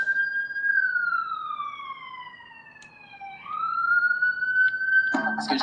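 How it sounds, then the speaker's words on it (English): A single siren wails slowly down and back up in a long sweep, fairly distant, ending in a brief clatter of noise. "oh, the sirens right on time,"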